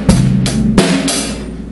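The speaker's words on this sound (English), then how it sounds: "The basic rock grooves is as follows." Basic rock groove on a drum kit: kick, snare and cymbal hits in a steady pattern, loud and close, with sharp crashes or snare strikes punctuating the beat over a short stretch.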